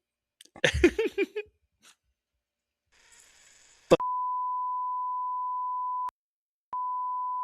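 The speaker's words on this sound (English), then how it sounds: "long beep." A sustained electronic beep tone holds for about two seconds, breaks briefly, then resumes, following a short burst of speech and a click.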